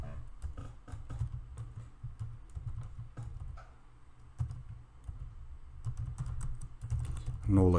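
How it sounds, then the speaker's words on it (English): Someone types on a computer keyboard at close range, producing bursts of quick clicking keystrokes with short pauses between words and a louder thump at the end, while no one speaks. "I'm gonna type something like"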